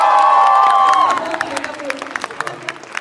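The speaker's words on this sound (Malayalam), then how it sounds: "പടം ഇഷ്ടമായവര് മാത്രം ഒരു കൈയടി അടിച്ചേ." A cinema audience applauds a Malayalam film after a screening. A voice and a sustained tone fade out, then scattered, crisp claps follow from a modest crowd, fairly close and irregular in rhythm.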